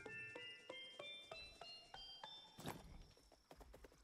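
Clip-clop of horse hooves in a steady trotting rhythm over soft ambient music in the video game Kingdom Two Crowns: Norse Lands, with a brief whooshing burst midway and a few sharper knocks near the end.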